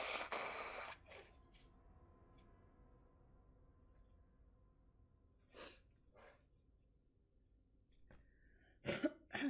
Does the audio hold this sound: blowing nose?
yes